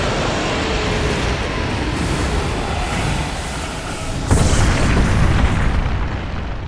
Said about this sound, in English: don't think I could have avoided that explosion